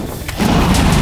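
A flashbang goes off in Minecraft during a hectic fight, a sudden loud boom that swells into a dense, sustained rumbling wash.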